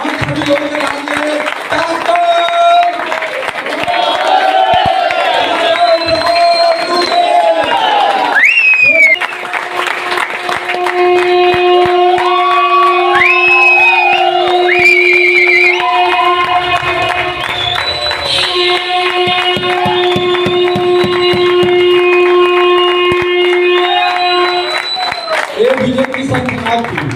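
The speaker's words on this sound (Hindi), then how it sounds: "तो हम सभी लोगों की जोरदार तालियों के साथ" An audience at a leadership development programme event breaks into loud, sustained applause and cheering, a dense wash of clapping that carries on for the whole stretch with music playing underneath.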